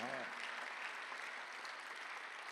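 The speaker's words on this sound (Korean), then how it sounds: "박수 하세요" A church congregation claps during a Sunday worship sermon, a dense, even wash of applause that follows a brief moment of a voice at the start.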